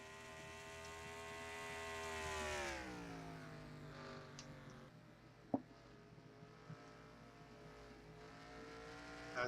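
NASCAR stock cars racing at New Hampshire in a video game, with an engine howl that rises and then drops in pitch as a car passes, followed by quieter engine drone and a few sharp clicks.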